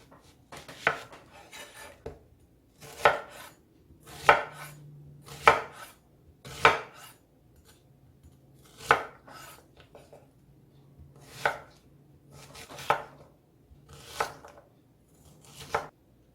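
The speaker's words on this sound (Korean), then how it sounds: "준비된 야채들을 썰어 볼 건데요" A knife chops cubed meat and vegetables such as bell pepper on a board for a homemade curry, about a dozen separate close, crisp thuds and short bursts of cutting spaced by quiet pauses, with no talking.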